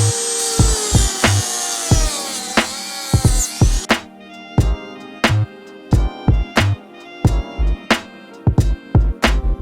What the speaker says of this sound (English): I'm gonna trim this little lip off of here.